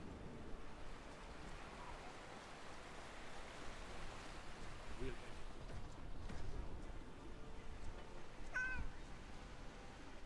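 Cat in the game Skyrim with the Lorerim mod gives a faint, brief meow near the end, heard over a steady rain-like hiss of ambient noise.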